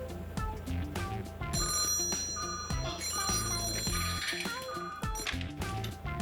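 A telephone rings at the SKIP Fujiyama City branch office hotline, a bright electronic ringing tone repeating over a musical score, loud and continuous.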